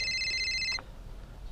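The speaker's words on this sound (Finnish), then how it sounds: "mullahan soi puhelin" Mobile phone ringing nearby with a bright, high warbling tone that plays for under a second and then cuts off, leaving quiet background noise.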